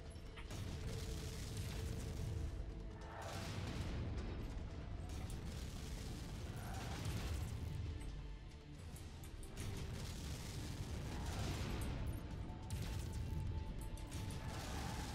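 Mech weapons fire and explosions in MechWarrior 5, heavy booms and crashing impacts repeating in bursts over a rumbling mechanical background, loud and dense with no talk.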